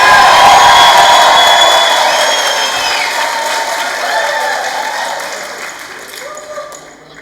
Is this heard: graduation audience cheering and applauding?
yes